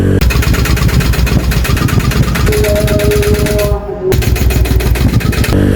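A Honda Vario motorcycle engine bored up to 163cc runs steadily and loudly up close with an odd, abnormal-sounding note and a dense, buzzing drone that dips briefly near the end.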